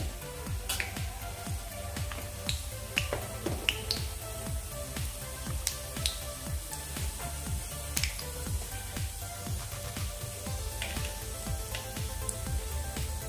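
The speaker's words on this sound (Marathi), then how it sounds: "आता आपण अर्धा टीस्पून मोहरी घालूया" Mustard seeds and cumin crackle and pop in hot oil, a steady sizzle broken by frequent sharp little snaps spread throughout, close and moderately loud with no talking, while cooking for vangyache bharit, a roasted eggplant dish.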